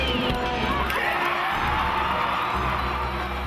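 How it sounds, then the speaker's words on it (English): A sellout crowd at an Alabama Crimson Tide gymnastics meet in Coleman Coliseum roars and cheers continuously with shouts and whoops, a dense, loud wash of voices throughout. "a sellout crowd is here to see the Alabama Crimson Tide"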